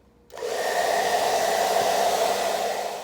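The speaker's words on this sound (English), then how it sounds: "take the hair dryer on the low heat setting and just run it across the shoe a little bit, just to warm the shoe a little bit" A hair dryer on its low heat setting is run over a leather boot to warm it before beeswax is worked in, switching on after a brief quiet start and then blowing as a loud, steady near whir for the rest of the clip.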